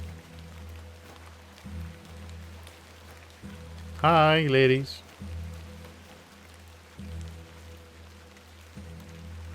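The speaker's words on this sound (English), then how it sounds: "Let's get out of the rain." Steady rain falls in the point-and-click adventure game The Excavation of Hob's Barrow, a soft continuous patter under a low ambient drone, briefly interrupted by a short spoken greeting midway.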